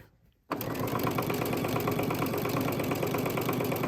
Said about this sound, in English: And just sew over that twill tape.